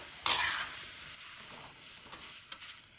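A radish paratha filling is stirred as it fries in a lightly oiled pan, opening with a bright burst of sizzle and then settling into a soft hiss with a few scraping spoon strokes, close up.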